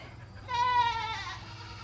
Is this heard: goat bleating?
yes